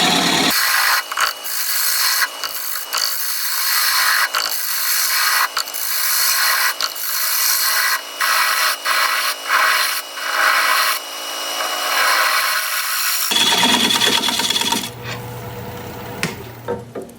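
A woodturning tool is sharpened in a woodturning shop, producing loud continuous abrasive grinding and rubbing broken by short pauses, then a shift to a duller, rougher grind near the end, with no talk.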